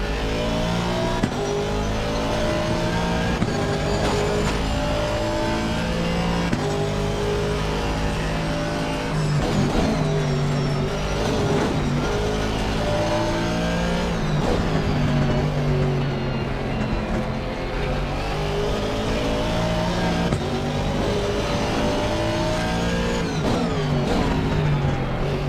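A race car engine in Assetto Corsa Competizione roars loudly and continuously, revving up and down through repeated gear changes and accelerations for the whole stretch, with no talking.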